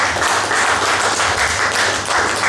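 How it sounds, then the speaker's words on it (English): An audience applauds an award recipient at a Commonwealth award presentation, producing a continuous, loud, dense clapping that fills the short stretch without a break. "a big round of applause for Bridge"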